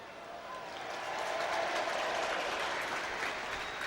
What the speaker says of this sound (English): The Stamford Bridge breaks into a light ripple of applause.